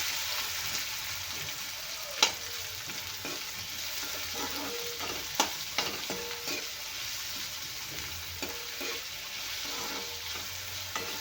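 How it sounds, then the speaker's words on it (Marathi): Finely chopped onion sizzles steadily in hot oil, with occasional sharp stirring clicks of a spoon against the pan, close and moderately loud, no voices. "कांदा आपण छान फ्राय करून घेऊया तेलामध्ये"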